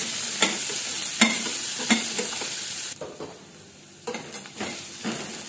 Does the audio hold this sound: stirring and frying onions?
yes